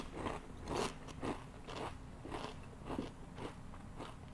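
Repeated sharp crunches of a ridged Ruffles ketchup potato chip being bitten and chewed close up, about seven crisp bites in a steady rhythm.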